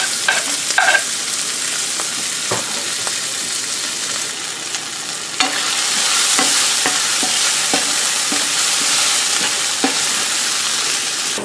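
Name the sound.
shallots frying in oil in a pan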